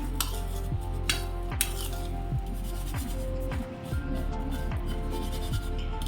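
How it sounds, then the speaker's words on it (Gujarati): Repeated scraping and clinking of a utensil mixing paneer coating of flour, salt and grated ginger in a bowl, steady and close, with no talking. "સારી રીતે મિક્સ કરી લઈએ."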